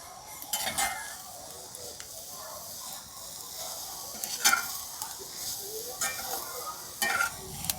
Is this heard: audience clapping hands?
no